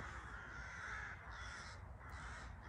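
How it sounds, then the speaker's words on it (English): Crows caw at dusk around a campsite in Sevenoaks as the moon comes out, a dense overlapping chorus of harsh calls from a flock in flight, steady and fairly distant, with no talking. "I'm hoping as it gets darker now, the moon's just come out, that these crows shut up."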